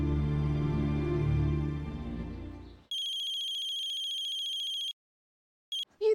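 A low droning sound fades away, then an electronic telephone ringtone trills steadily for two seconds, stops, and briefly starts again.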